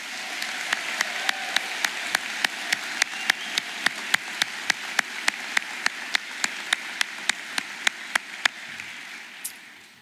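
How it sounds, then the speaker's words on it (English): Audience applause at a graduation commencement ceremony for the class of 2023: a steady wash of clapping with one sharp, evenly paced clapper standing out close by, holding for about nine seconds before fading. "Please join me in another round of applause for the class of 2023."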